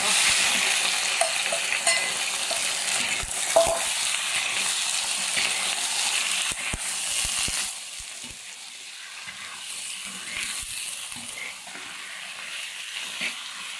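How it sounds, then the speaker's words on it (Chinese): Duck pieces stir-fry in a wok with rapeseed oil, ginger and garlic: a steady close sizzle with repeated scraping stirs of the spatula that eases off partway through. "鸭子下锅炒。"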